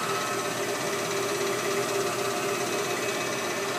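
The spindle of a Supermax TC-2 CNC lathe runs at 1000 RPM with no workholding mounted, a steady, loud mechanical hum and whine that holds constant throughout without speech.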